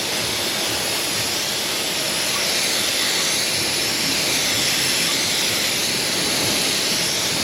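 A water hose sprays down a crusty, oily Chrysler 200 3.6 Pentastar engine, giving a steady, loud, close hiss of rushing water that holds unbroken throughout with no talking.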